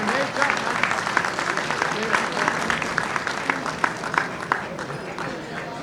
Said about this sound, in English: A round of applause for Colonel Katz